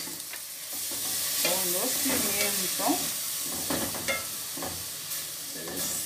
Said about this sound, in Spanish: Seguimos sofriendo.